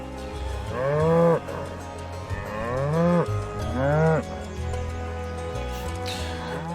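Cattle mooing in the Final Fantasy VII Rebirth video game, three long, loud, drawn-out moos in a row over a steady game backdrop, with no talk.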